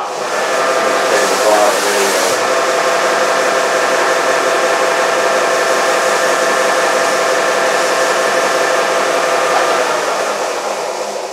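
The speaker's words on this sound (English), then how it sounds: "I'm gonna go touch it on my sander." A power sander runs against a wooden jig with a loud, steady, continuous whirring hiss, close and unbroken throughout.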